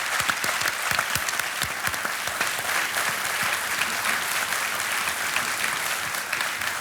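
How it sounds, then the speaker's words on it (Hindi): Steady applause from the studio audience of the Hindi TV quiz show Kaun Banega Crorepati, continuous clapping throughout at moderate volume. "तालियों के साथ इनका हम अभिनंदन करते हैं।"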